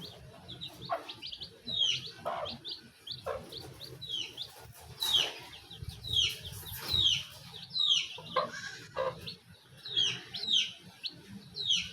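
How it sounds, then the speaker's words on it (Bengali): Native country hens with their chicks resting after feeding, soft repeated clucks and chirpy peeps scattered close by at low volume, in irregular bursts over a quiet background. "দেশি মুরগি।"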